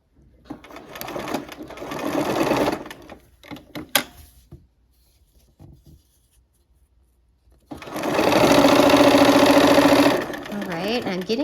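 A sewing machine stitches fabric in two bursts, a fast rattling whir near the start and a louder sustained run later, with quiet handling noises and pauses between.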